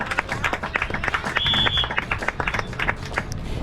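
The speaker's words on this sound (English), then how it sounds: "Look, give me a round of applause for that." Audience applause at a dolphin show at the Dolphin Research Center, a steady patter of clapping from a crowd lasting several seconds, with a brief whistle-like tone partway through.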